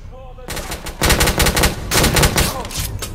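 Heavy gunfire in the video game The Order: 1886, with loud, close blasts coming in rapid overlapping bursts almost without a break.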